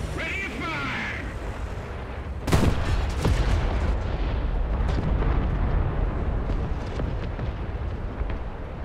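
Tank cannon fire in a video game with a Tiger tank: one sudden loud blast, then a sustained rumbling roar of battle, with a muffled voice briefly beforehand.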